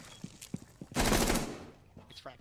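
Gunfire in Rainbow Six Siege: a few scattered single shots, then a sharp, loud burst of rapid automatic fire lasting about half a second, followed by quieter, fading game sounds.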